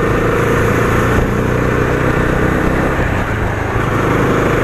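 Bajaj Dominar 250 BS6 motorcycle engine running steadily on a short test ride, a loud continuous mid-pitched drone with road and wind noise and no clear revs.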